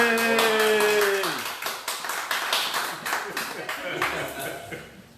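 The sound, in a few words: applause from audience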